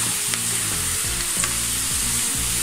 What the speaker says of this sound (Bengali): পেঁয়াজটাকে আমি লাল লাল করে ভেজে নিয়েছি